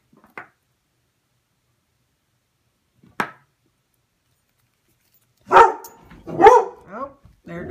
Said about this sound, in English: My dogs were going nuts at the dog next door.